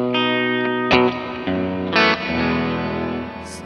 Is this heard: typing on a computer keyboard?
no